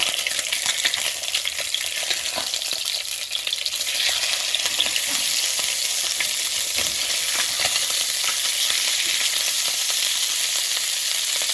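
Rock greenling fillet frying in a pan, with a dense, steady sizzle and crackle of hot oil close up and constant throughout, and a few faint scraping touches as the fish is turned.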